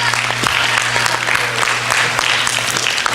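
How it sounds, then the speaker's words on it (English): An audience applauds steadily for a student called to the dais at a school competition, dense clapping filling the room under a low steady hum. "You have energy to keep clapping"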